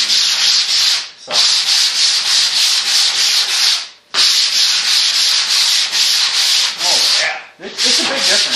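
A power sander works over a clear-coated surface, producing a loud, hissing abrasive rush in repeated strokes, with brief pauses between passes.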